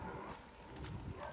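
Brumby horses back home around hay, their hooves shuffling and thudding in an uneven, nearby patter against a rough outdoor background.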